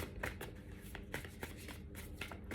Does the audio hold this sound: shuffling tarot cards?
yes